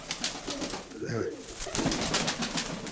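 Fancy domestic pigeons coo in a backyard loft, low burbling calls repeating near at hand over soft rustling and background noise.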